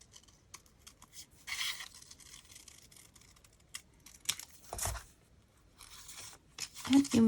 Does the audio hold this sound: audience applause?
no